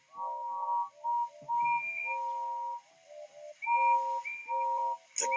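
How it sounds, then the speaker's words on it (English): A crowd of cheering onlookers letting out a flurry of bright, overlapping whistles, several rising and falling tones in quick bursts one after another, loud and clear with no speech over them. "drowned in a delighted chorus of cheers and"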